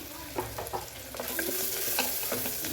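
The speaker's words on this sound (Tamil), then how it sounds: "இதெல்லாம் வதங்கணும் ஆனியன் நல்லா வதங்கிக்கிறேன்" Onions with a little asafoetida sizzle and crackle in a hot pan while a utensil stirs and scrapes through them, steady frying up close with no voices.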